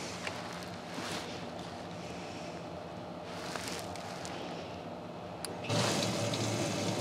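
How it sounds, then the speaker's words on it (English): Electric fuel pump on a Chevy K10 pushing fuel through a line into a jug, a steady rushing, splashing liquid flow at low level that grows louder and fuller near the end, with no talk. "if it works, just pump fuel in the jug"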